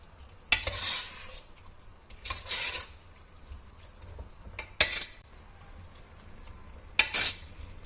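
A spoon stirs a tomato and sugar mixture in a pan for mushroom pulav. Four separate scraping stirs come up close over a faint sizzle, with short quiet gaps between them.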